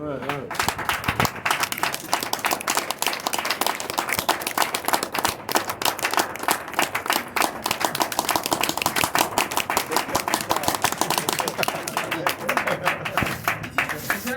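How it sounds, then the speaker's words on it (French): An audience at a product training session claps steadily and loudly throughout, a thick patter of applause with voices talking over it. "je vous demande d'acclamer ce merveilleux produit"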